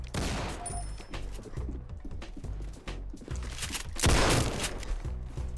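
Rapid, closely spaced Desert Eagle gunfire from the Roblox game Criminality crackles through the whole stretch, loud and dense, swelling into a heavier burst near the end with no talk over it.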